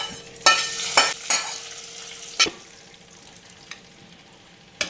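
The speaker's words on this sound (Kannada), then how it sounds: "ಇವಾಗ ಈ ಒಗ್ಗರಣೆನ ಸೇರಿಸೋಣ" Hot tempering is poured into little millet bisibelebath, giving sharp bursts of sizzling and crackling that fade into a soft, lingering hiss with a few later pops.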